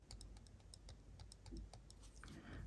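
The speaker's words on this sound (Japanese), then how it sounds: "書くときにちょっとカチカチ音が、 えー、します。" Quiet rapid clicking and tapping of a Mitsubishi Pencil Jetstream Prime multi-function ballpoint pen tip while writing, a series of small sharp ticks in an irregular rhythm, close and soft with no voices.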